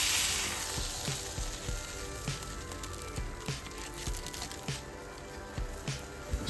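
An egg and sausage fry side by side on a griddle, a steady soft sizzle with faint irregular ticks and scrapes, close and quiet with no talking.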